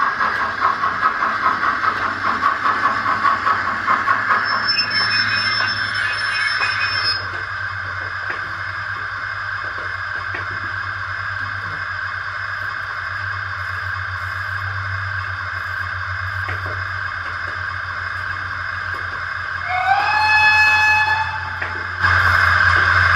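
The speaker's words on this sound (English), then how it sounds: "Kidwelly Castle pulls into platform 1 and loads passengers for London" Steam locomotive Kidwelly Castle drawing into a station platform, a steady low rumble and hiss running throughout, with a brief whistle-like tone near the start and a sharper squeal of brakes or whistle toward the end.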